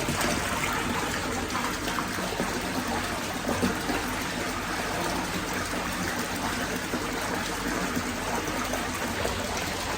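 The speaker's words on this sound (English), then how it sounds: "So the water's coming back in." Steady rushing and trickling water runs continuously at a constant level as water flows back into the vats of a K-Plus Advance pond filter after cleaning, with no voices.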